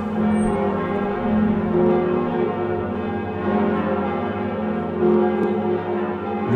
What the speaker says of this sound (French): l'autre instrument de Notre-Dame, ce sont les cloches. Il y en a 8 notamment qui sonnent toutes les heures